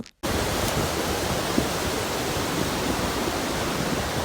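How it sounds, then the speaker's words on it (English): Steady, rushing roar of a waterfall in Brazil, close and loud, with an unbroken wash of falling water after a brief silent start. "And then we got really up close to the waterfall."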